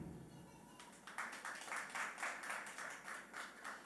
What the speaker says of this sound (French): Merci pour vos acclamations.